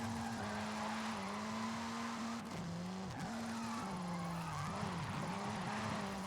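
A car drifting in Forza Horizon 5 holds a steady high engine drone with sustained tire squeal, the pitch dipping and climbing as the car slides through bends, loud and close throughout.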